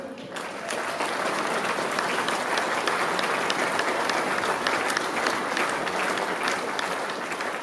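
A hall audience at an accordion enthusiasts' national gathering in Ísafjörður claps steadily for an encore, a dense, sustained wash of applause that swells and holds loud for several seconds.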